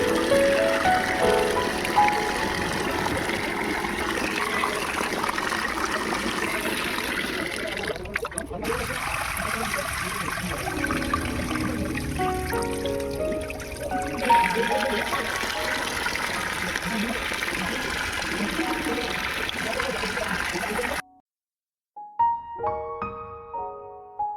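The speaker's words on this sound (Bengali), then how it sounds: "চালটা নিয়ে কলে চলে এসেছি হালকা হাতে নাড়াচাড়া করে তিন চারবার আমি ভালো করে নিয়ে নেবো" Rice rinsed by hand under a running tap, water streaming and splashing steadily with soft swishing of grains, close and continuous for about twenty seconds before stopping, followed by a few faint clinks.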